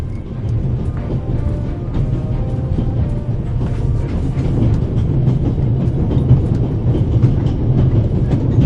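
Train rolling on rails in the video game The Raven, a steady low rumble with rhythmic clickety-clack and rattling carriage noise, loud and continuous throughout.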